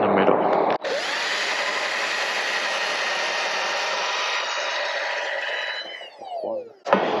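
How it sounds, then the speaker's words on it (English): A power drill whines steadily at full speed for several seconds, drilling holes during trailer assembly, stopping briefly at the start and winding down near the end, close and loud. "I'm drilling holes every 10 inches from the top."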